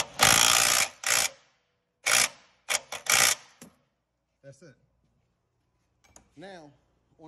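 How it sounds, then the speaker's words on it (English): Air impact gun tightens a nut and lock washer on the rear air spring of a 2009 Range Rover Sport, firing in several loud short rattling bursts with pauses, then a faint voice speaks briefly near the end. "Take our gun, just gonna tighten this up."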